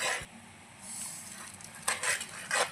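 Rusk halwa stirred in a pan, its sticky sugar syrup mixed with rusk powder, a quiet low simmer broken by a few soft spoon scrapes and knocks against the pan.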